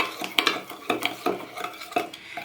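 A ginger-sugar vegan body scrub is stirred in a bowl, giving repeated gritty scraping strokes with soft clinks of a spoon against the bowl, close and moderately loud with no talking.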